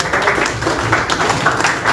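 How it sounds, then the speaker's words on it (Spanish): Loud, dense applause from an audience at a talk on infrastructure in Peru, a steady wash of many hands clapping close by that holds for the full two seconds. "Fuertes palmas."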